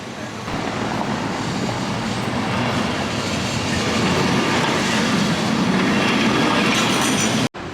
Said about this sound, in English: but I love Lisbon trams.